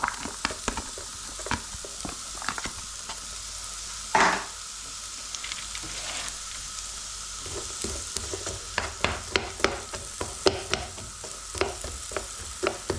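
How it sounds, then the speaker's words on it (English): Onions fry gently in a pan as the base for a Kerala fish curry, a soft continuous sizzle broken by frequent spatula scrapes, clicks and stirring taps close by, with no speech. "So let's just gently fry up these onions first of all."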